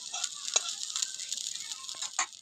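Semolina and milk breakfast cake batter frying in hot oil in a kadai, a steady soft sizzle with a few brief stirring taps and clinks, fairly quiet and close, with no talking.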